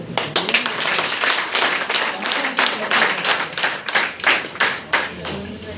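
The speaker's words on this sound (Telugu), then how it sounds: "క్లాప్స్ మీకు" An audience at an indoor talk and product demonstration claps together in steady, dense applause for several seconds, loud and close.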